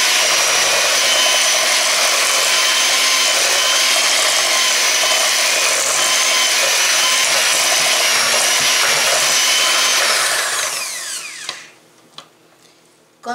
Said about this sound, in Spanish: Y vamos a seguir batiendo.